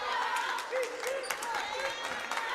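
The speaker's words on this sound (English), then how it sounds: "Nathan Ashmore, is getting a resounding clap from the crowd" A crowd at a high school basketball game applauds a player being subbed out, a sustained wash of clapping heard under a commentator's continuous voice.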